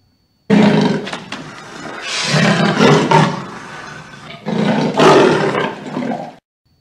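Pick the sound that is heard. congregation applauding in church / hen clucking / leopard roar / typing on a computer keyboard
leopard roar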